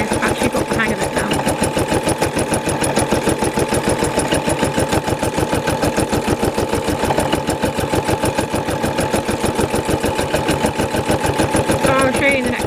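Embroidery machine stitching at a fast, steady mechanical rhythm, stitching the white eye shine detail on a design; loud and close, with a continuous pulsing buzz throughout.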